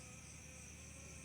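Asian honey bees (Apis cerana) swarm around a hive box damaged by a windstorm, giving a faint, steady, continuous buzz with no voices.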